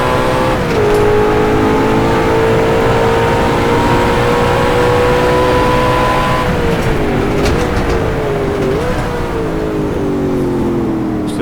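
An Ultima GTR race car on track, its engine howling loud and close while braking and then accelerating, the pitch holding, dipping through downshifts and rising again.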